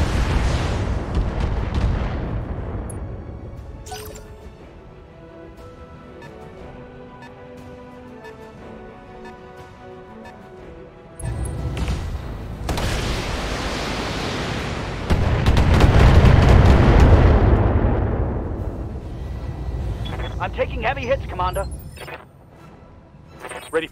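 Mech weapons and explosions in the BattleTech strategy game: a loud opening blast rumbles away, then a quieter stretch, followed by a sudden barrage of heavy booms and rolling detonations that builds, peaks and cuts off sharply.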